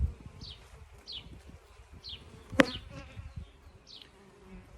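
Honey bees buzzing around a beehive, a steady close insect hum with individual bees droning past now and then and a single sharp knock in the middle.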